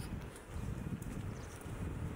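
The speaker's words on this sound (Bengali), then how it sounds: "কত সুন্দর বাতাস" Morning breeze outdoors near an international airport terminal, heard as a steady, close, rushing wind buffeting the microphone with low rumble throughout, alone without talk.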